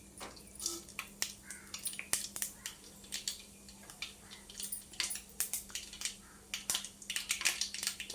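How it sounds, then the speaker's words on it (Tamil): Mustard seeds and cumin pop in about three ladles of hot oil, a busy scatter of sharp crackles and tiny snaps over a low steady hiss. The popping is close, irregular and grows denser toward the end, with no voices. "ஒரு மூணு கரண்டி எண்ணெய் ஊற்றிக்குங்க கடுகு போட்டுக்கோங்க அந்த கடுகு கூடவே கொஞ்சம் ஜீரகம்"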